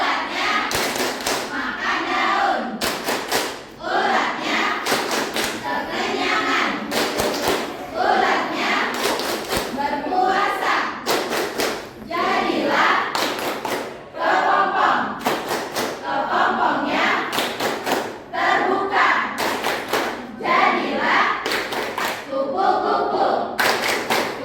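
A school class performs the butterfly clapping chant (tepuk kupu-kupu) during a lesson: loud, close bursts of group clapping in a steady rhythm alternate with children chanting together for the whole stretch.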